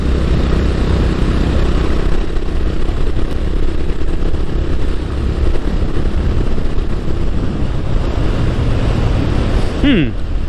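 A 2021 Honda GB350S single-cylinder motorcycle engine drones steadily while being ridden, half-buried under loud, constant wind buffeting at the helmet microphone. A brief rising rev blip comes near the end.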